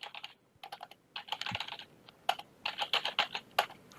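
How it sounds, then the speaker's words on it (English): Quick bursts of keystrokes on a computer keyboard, clicking in short irregular runs, close and fairly quiet with no talking. "you just have to type in content until you reach the number"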